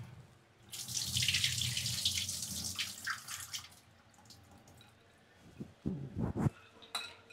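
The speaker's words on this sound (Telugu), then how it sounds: "ఇగో ఇట్లా నీళ్ళు తీసేస్తున్నా. నైట్ నానబెట్టిన వాటరు తీసేస్తున్నాయి" Water drained from overnight-soaked corn kernels gushes steadily as it is poured out, then tapers off into scattered splashes and clinks of a container being handled.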